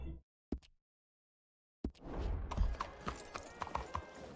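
Horse hooves clip-clop in Red Dead Redemption 2, a steady run of hoofbeats at close range following two short isolated knocks and a pause, with no talk over them.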